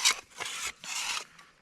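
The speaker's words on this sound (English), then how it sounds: "you can also take the back side of your saw or something else with a 90 degree and you can scrape like this" The back of a saw blade scrapes bark off a log in three or four short, rasping strokes, close and fairly soft, with no talk.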